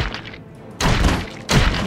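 A gunshot fired from a tower in a video game lands as a loud, broad burst, followed by a second similar blast moments later over a rumbling game background.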